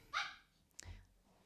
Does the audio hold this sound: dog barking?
yes